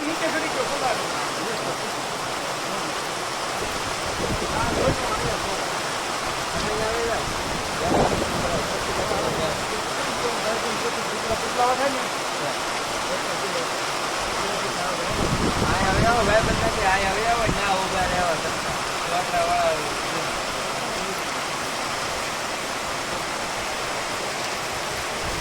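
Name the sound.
floodwater flowing through village after heavy rain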